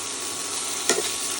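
Chopped potato, onion and garlic fry in a pan with a steady close sizzle, and a brief stirring clatter near the end.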